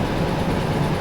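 A train in the Derail Valley video game runs steadily at speed, a loud continuous low rumble and rolling noise with no break and no voices.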